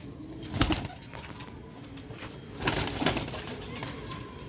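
Black-faced pigeons coo in soft, low throaty bursts, with two louder swells near the start and middle over a quiet background hiss. Nobody talks.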